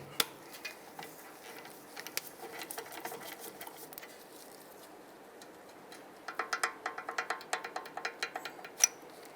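Two 17 mm caliper bolts being worked loose on a 2007-2015 Mazda CX-9, heard as a close, quiet run of rapid metallic ratchet clicks in bursts, with a denser, louder ticking stretch near the end; no talking.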